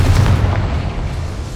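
A Confringo spell detonates in Hogwarts Legacy, a loud, deep, rumbling explosion that booms up front and then fades over a second and a half.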